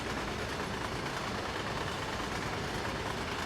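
A train rolls along the Main-Spessart Bahn in Train Sim World, heard as a continuous dense rumble of wheels and engine that holds steady and fairly loud, with no talking.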